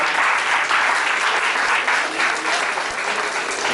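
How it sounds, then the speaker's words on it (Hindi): Loud, dense applause from a crowd at a school prize distribution ceremony in Haryana, sustained evenly throughout with no voices. "तालियां जोर से बजाओ"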